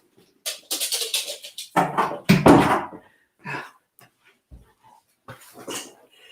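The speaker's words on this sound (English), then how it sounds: "I'm just going to get the dog out" A dog being let out indoors, with a burst of whimpering and yelping followed by scattered shorter sounds and movement, close by.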